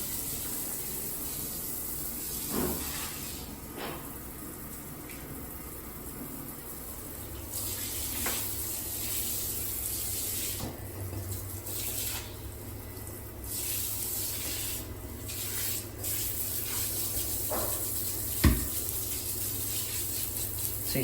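Water runs and splashes faintly as it rinses blue hair dye off bathroom tiles and grout, a low steady wash broken by occasional soft knocks and drips.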